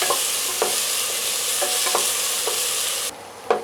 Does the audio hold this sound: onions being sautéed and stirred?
yes